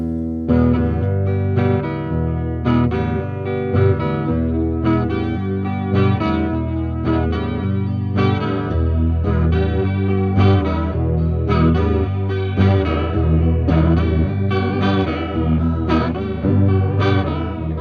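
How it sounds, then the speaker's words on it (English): An electric guitar plays chords through a 90s grunge-style modulation pedal, its tone warbling and wavering continuously and loudly throughout, alone with no talking. "anywhere from a subtle warble to an intense seasick modulation and everywhere in between"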